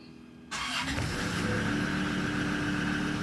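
A 2002 Land Rover Discovery diesel engine cranks briefly and catches after about half a second, then settles into a steady, loud, close idle that continues to the end.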